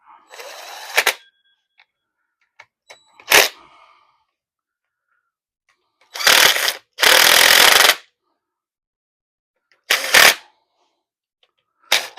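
Ratchet snugging the front pump bolts on a Ford C4 automatic transmission during a rebuild, heard as several separate bursts of rapid clicking, some short and one longer, close and fairly loud with quiet gaps between them.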